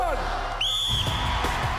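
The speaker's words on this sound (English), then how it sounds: "Gladiators, you will go on my second whistle" A referee's starting whistle at a BBC Gladiators UK event gives one short, shrill blast over crowd noise and an announcer's voice.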